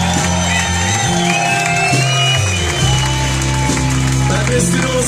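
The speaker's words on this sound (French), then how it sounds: "un premier applaudissement." A concert audience applauds and cheers for the band's trumpet player, with whoops and shouts over dense clapping that stays loud and steady throughout, under low sustained tones from the stage.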